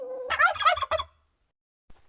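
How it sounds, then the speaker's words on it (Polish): A turkey lets out one loud, close gobble, a quick burst of rapid warbling that stops abruptly and is followed by quiet and a faint thump. "Gdzie te indyki są?"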